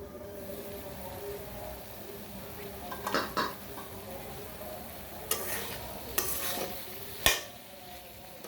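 Taro stems sautéing with spices in a pan for a boal fish curry, giving a steady low sizzle broken by a few sharp scrapes and clinks of a spoon against the pan.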